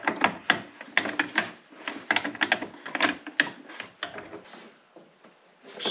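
Hand ratchet tightening bolts on a Polaris Glacier HD snowplow mount being fitted to a UTV, giving bursts of rapid clicking strokes at close range with short pauses between them, no talk.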